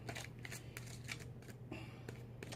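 Doreen Virtue Angel Therapy oracle cards shuffle and slide softly against each other in a series of quick papery riffles, close but faint, with no voices over them.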